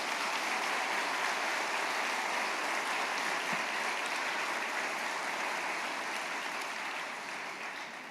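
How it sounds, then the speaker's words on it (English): An audience bursts into a sustained round of applause during a speech about education, a dense even wash of clapping heard from a distance that tapers slightly toward the end. "let's give a round of applause to UAE"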